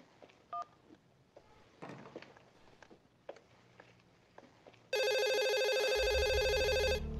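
A telephone dials, with a few faint tones amid quiet handling noises and soft footsteps, then a loud, steady electronic ringing tone starts abruptly and continues to the end.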